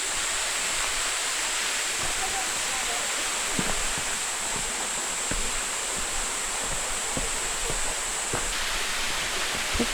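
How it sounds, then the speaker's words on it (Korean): Steady, rushing water roars continuously from a roughly 20 m waterfall nearby on Gamaksan mountain, South Korea, a broad even hiss with faint occasional knocks and movement in the foreground. "폭포 소리가 시원하게 들려오네요."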